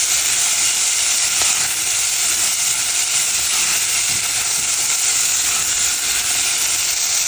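Onions sizzle steadily in hot oil in a home kitchen pan, a dense, even crackling hiss that holds at the same level throughout with no voices.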